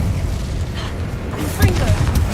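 An Incendio fire spell is cast in Hogwarts Legacy, a deep booming burst of fire over a continuous low rumble, with a brighter crackling flare partway through.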